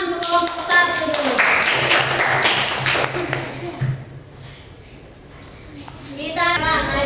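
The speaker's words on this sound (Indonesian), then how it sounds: "tepuk tangan untuk kelompok 1 dulu" Clapping from a class group giving applause for the first presentation group in a classroom, a burst of loud applause that fades out midway, then returns briefly near the end, with children's voices mixed in.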